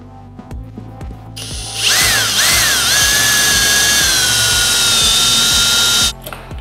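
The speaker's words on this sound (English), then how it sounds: "Drill a pilot hole." A power drill whirs loudly and steadily for several seconds, boring a pilot hole, its pitch shifting as it bites in, over a rhythmic background thump, then stops.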